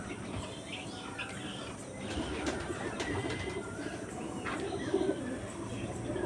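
Two sick pigeons, including a Madras pigeon, coo in a low, continuous murmur for about six seconds, with a few faint chirps mixed in and no talking.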